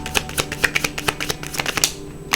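Tarot cards are shuffled up close in a quick run of crisp, riffling slaps and flutters, a rapid uneven rhythm of sharp bursts spanning a couple of seconds, with no voices.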